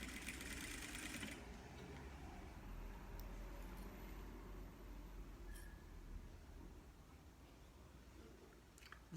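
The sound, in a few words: sewing machine stitching a dish towel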